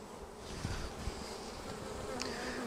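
Honey bees buzz at an open hive fitted with a Flow Super, a dense steady drone close by with a few individual bees whining past, no voices.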